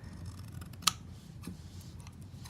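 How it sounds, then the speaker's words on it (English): Paper being trimmed with scissors while crafting a Christmas pocket money holder: one crisp close snip stands out, followed by softer faint cutting and handling sounds in a quiet room. "I'm going to trim it pretty close."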